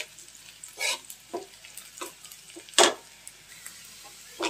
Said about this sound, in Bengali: তা আমার মরিচ পেঁয়াজ ভাজা শেষ,